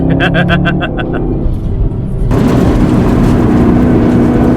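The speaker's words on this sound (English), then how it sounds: "You just hear the rocks like slamming into the car" Chevy Camaro ZL1 1LE at speed with loud, constant engine and road roar inside the cabin, rocks and grit pelting the body in a dense rattling wash.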